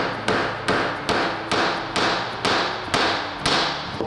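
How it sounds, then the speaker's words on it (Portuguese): A hammer taps a wooden plug into a screw hole in wood, about nine evenly spaced sharp knocks, each with a short decay, close and clear with no talking. "Daí eu venho com o martelo."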